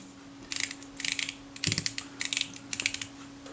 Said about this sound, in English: Checking that the shutter speed action is smooth, but it has a positive click stop.